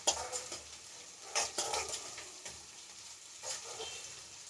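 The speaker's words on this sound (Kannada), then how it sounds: "ಬದನೆಕಾಯಿ ಇಷ್ಟು ಫ್ರೈ ಆದರೆ ಸಾಕು" Brinjal fries in a pan with a soft, steady sizzle, while a spoon stirs it in occasional scraping bursts; fairly quiet, with no talk.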